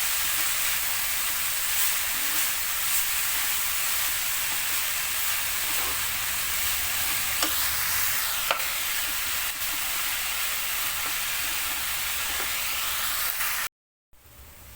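Dill leaf bhaji sizzles steadily in a pan while being stirred and mixed, a constant hissing fry with occasional soft scrapes and taps, dropping out briefly near the end.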